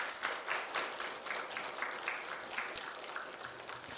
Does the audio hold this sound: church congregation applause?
yes